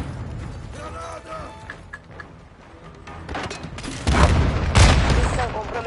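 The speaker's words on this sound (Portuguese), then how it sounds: "Granada!" A grenade blast in Call of Duty Modern Warfare 2 multiplayer, a rising burst of loud rumbling noise after quieter mechanical clatter and game effects, with muffled voices underneath.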